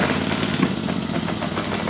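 An Engel gas generator set on choke runs with a close, loud, steady engine drone and a slight throbbing pulse throughout.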